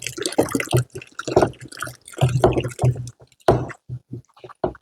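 A thin stream of humic acid solution poured into water on a farm, soft watery dribbles and drips in irregular bursts, up close and fairly loud.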